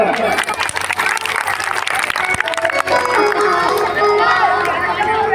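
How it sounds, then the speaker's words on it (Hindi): Crowd applause for the organizers at a Bhagwat katha gathering in Nagra, heard as a loud, dense burst of many hands clapping in a big outdoor crowd, with voices and chatter running beneath it. "सभी आयोजकों के लिए ताली बजाएं एक बार।"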